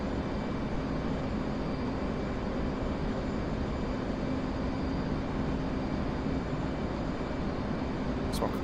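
Jet engine thrust building in DCS World during a Blue Angels solo airshow practice, a steady, loud broadband roar that holds without break from start to finish.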